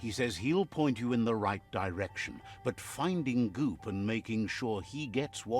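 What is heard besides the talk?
No everyday noise stands out behind the speech.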